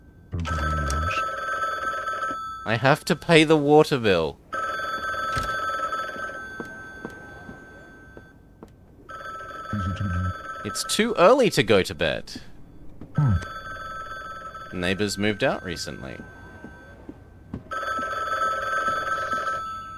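Old-style telephone bell ringing in bursts inside the video game The Bookwalker, repeating several times with pauses, while a voice speaks between and over the rings.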